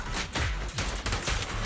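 Rapid gunfire in the video game Zenless Zone Zero, a dense, loud burst of overlapping shots that runs without a break for under two seconds amid other game effects.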